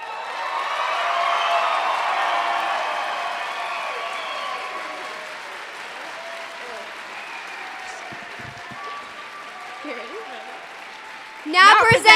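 A high school graduation audience applauds the class of 2022. The clapping swells loudly at first, then gradually thins and fades, and a voice speaks briefly at the end.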